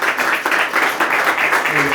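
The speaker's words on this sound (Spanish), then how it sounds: "Ofrenda de palmas a nuestro Dios" Church congregation giving a sustained round of hand clapping as an offering to God during a Guatemalan worship service, dense overlapping claps from many people filling the room, steady and fairly loud with a few voices mixed in.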